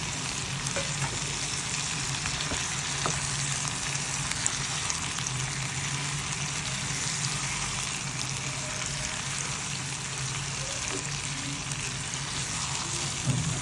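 Steady, loud sizzling and crackling of chicken frying with onions and garlic in a hot pan, with occasional stirring scrapes and no voices.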